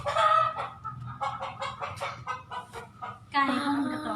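Hens clucking in a quick, uneven series of short calls, fairly close, with a louder burst of squawking near the end.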